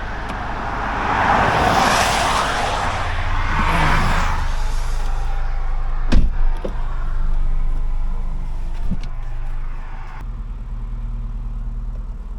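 A 385 bhp Volkswagen Scirocco R driving late at night on quiet roads gives a steady engine and road roar from inside the car, with a few sharp knocks and thumps partway through.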